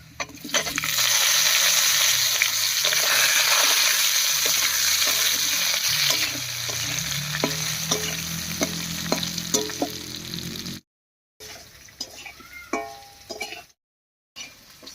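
Loud, steady sizzling of boiled potatoes frying in hot oil with a cumin tempering, with occasional stirring scrapes. The frying fades and briefly cuts out near the end.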